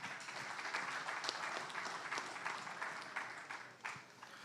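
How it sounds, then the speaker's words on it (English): Audience applause at a Texas high school football coaches clinic honoring a Hall of Honor coach: a steady, dense wash of many hands clapping that holds for several seconds at moderate level and tapers slightly toward the end, with no talking. "Round of applause, Coach Mike Robbins."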